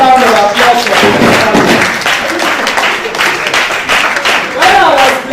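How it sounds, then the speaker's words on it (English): Loud, sustained clapping fills a hall at a women-in-research awards event in Ibadan, swelling and dipping as a voice speaks over the top of it. "Please, I need a loud round of applause for him."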